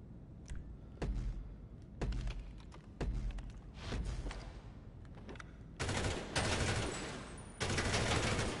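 Gunfire at GTA Online's bunker shooting range: single loud shots spaced about a second apart, then denser rapid automatic bursts toward the end, close and without talk.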